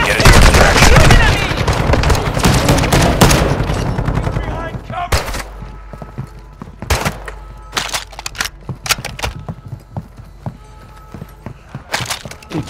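Dense automatic gunfire in the Call of Duty DMZ video game starts as loud continuous bursts, then thins into scattered single shots and short volleys over many seconds, with voices calling out in between.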